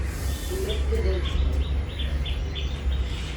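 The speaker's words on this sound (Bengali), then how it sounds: "এখানে একটা পায়রা ছানা" A fallen pigeon chick gives a run of thin, high, repeated peeping chirps at close range, with a low background rumble and brief voices around it.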